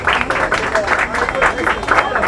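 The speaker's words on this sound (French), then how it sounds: "On applaudit pour nos frères et sœurs." Audience applause and clapping fill a comedy club theatre show in Congo, a steady dense wash of hands sustained throughout with some crowd voices mixed in.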